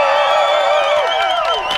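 A rally crowd cheers and whoops together, a loud, close wash of many voices with high shouts rising and falling over a brief burst.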